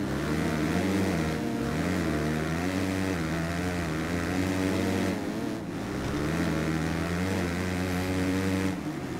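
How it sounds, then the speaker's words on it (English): Motocross bike engine in the MXGP3 video game, revving steadily and loud through nearly nine seconds with rising and falling pitch as the bike works through a corner, heard alone without talk. "the engine sounds really nice when you get into the corner"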